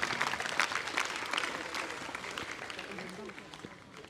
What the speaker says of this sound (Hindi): क्लैप को सभी लोग तालियों के साथ